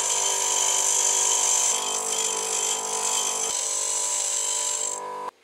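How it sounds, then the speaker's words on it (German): A bench grinder grinds the corner off a steel part, a continuous high-pitched whine with steady abrasive hiss that shifts pitch a couple of times, then cuts off abruptly at the end. "Das machen wir jetzt gerade auf dem Schleifbock"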